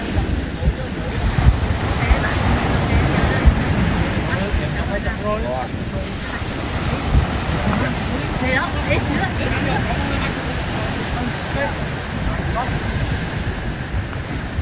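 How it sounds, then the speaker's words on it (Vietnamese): Ocean waves wash onto the beach of An Duong village in Hue, Vietnam, where fishing boats rest on the sand, a steady loud roar of surf mixed with strong wind buffeting the microphone. "Đây là cái bãi biển của làng An Dương."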